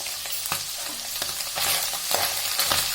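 Chicken pickle frying in a pan with cardamom, cinnamon and garlic, a steady close sizzle broken by several sharp stirring scrapes and clinks, with no voices.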